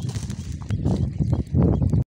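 A carabao water buffalo walks on farm ground, giving soft irregular hoof thuds and shuffles close by, with brief rustling and a few faint background sounds.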